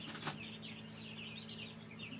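Broiler chicks huddled under a heat source in a small makeshift box pen in an unheated room, giving a steady stream of soft, high peeping and clucking calls close by, with a brief louder burst near the start.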